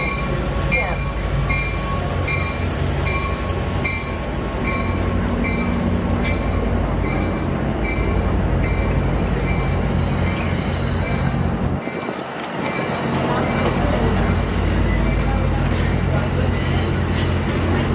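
Amtrak San Joaquins passenger train at a station, a steady loud rumble of railcars and wheels with occasional squeal, continuous throughout with a brief lull near the end.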